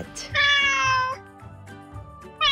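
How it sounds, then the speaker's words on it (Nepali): Close and alone, a cat lets out one long, clear meow, then a quieter, shorter cry, and the start of another meow comes at the very end. "बिरालो।"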